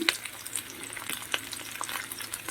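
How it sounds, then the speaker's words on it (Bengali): Prawn, egg and onion batter sizzling in a pan over a medium gas flame, with crackling bursts and light stirring scrapes, close and clear with no talking. "এই চিংড়ি মাছ ডিম পেঁয়াজ যে একটা ব্যাটার বানিয়েছি ব্যাটারগুলো আস্তে আস্তে দিয়ে দেবো"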